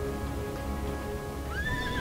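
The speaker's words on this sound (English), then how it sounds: "So his first unit of horses is starting to break." A horse whinnies shrilly in the second half over a steady backdrop of rumbling video game battle noise and distant commotion.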